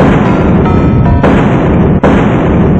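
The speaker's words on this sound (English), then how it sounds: "so many explosions" Loud, continuous blasts and gunfire rumble through a firefight in the video game Syndicate, with dense overlapping booms and a couple of sharp breaks. No talk is heard.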